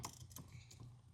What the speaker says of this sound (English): Tighten our band clamp up.